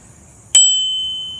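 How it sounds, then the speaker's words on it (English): A bicycle bell rings with a single bright ding that lingers and slowly fades, heard alone against near silence. "It's got a bell."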